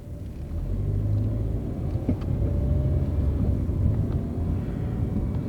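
A small-wheelbase Toyota rolls slowly over a bumpy road, giving a steady low rumble of tires and engine with a few faint knocks from the suspension, heard from inside the car with no talking.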